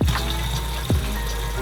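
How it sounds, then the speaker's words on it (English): Water runs steadily into a bottle, a continuous close trickle with a brief gurgling dip partway through. "First, I'm going to fill up my water"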